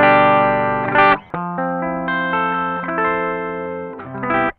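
An Ibanez Nu Tube Screamer overdrive pedal with its mix turned toward clean colours a loud electric guitar playing sustained chords and single notes, lightly driven and ringing, with no voices.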